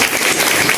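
A classroom of primary schoolchildren claps together during a water-cycle lesson, a short, loud burst of crowded applause with no voices over it.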